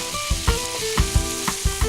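Fatty blackthroat seaperch pan-fries in hot oil with a constant crackling sizzle, broken by regular soft pops and spatters close up.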